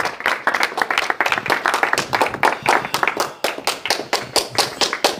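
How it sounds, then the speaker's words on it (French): Rapid, dense clapping from a church congregation applauding together, steady and continuous for the whole stretch with no voices over it. "Applaudissons pour le Seigneur."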